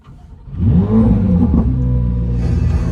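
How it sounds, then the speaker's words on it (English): Chevrolet Corvette C8 Z06 with stock exhaust fires up, a loud engine start swelling into a strong, steady high-revving idle with a rising whir, close by and alone. "If you've never heard the startup on a C8 Z06, you gotta check this out."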